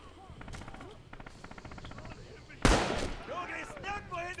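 A mounted machine gun in the Heroes of the West shooter rattles out rapid, evenly spaced bursts, then a loud close blast cuts in, with voices chattering over the fire.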